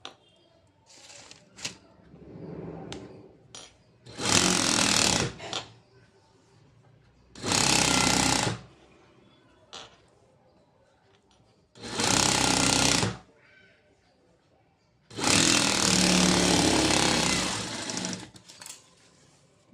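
A sewing machine stitches fabric in four loud, steady bursts of whirring needle action, each lasting about one to two seconds, separated by quieter pauses with light handling and faint rustling.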